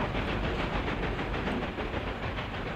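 Steam locomotive train in a video game, a steady chuffing hiss with a faint rhythmic pulse running continuously at moderate level, no voices.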